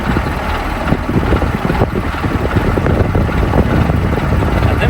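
A KamAZ truck engine idles while warming up, a loud, steady, rumbling drone with a rough pulsing texture that holds throughout without pause.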